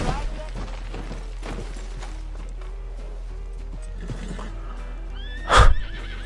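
A horse whinnies loudly near the end, a short high neigh standing out against quiet background clatter and tonal game-like sounds.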